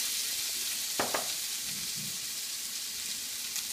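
Shallots and garlic sizzle in a hot non-stick wok, a steady close hiss with a couple of sharp clinks near the start, no talking.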